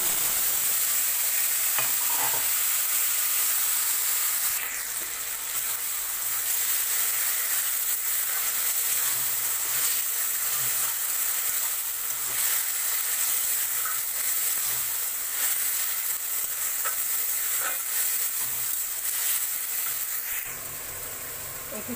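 Cabbage, tomato and eggplant stir-frying in a pan, a continuous hissing sizzle with soft scraping stirs, close and steady for the full length, no talking.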